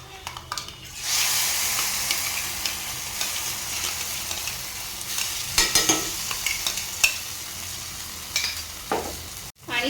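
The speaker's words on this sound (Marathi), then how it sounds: "ते वाटणामध्ये व्यवस्थित मिक्स करून घ्यायचं आहे।" Moringa soup paste is stirred in a hot pan with turmeric and salt, giving a steady close sizzle broken by scraping spoon strokes and soft clinks against the pan, with no talking.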